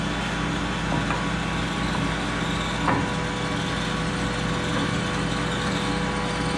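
A jointer planes the wood of a guitar neck, a steady motor hum with a continuous cutting drone and a few faint clicks, moderately quiet and unbroken throughout.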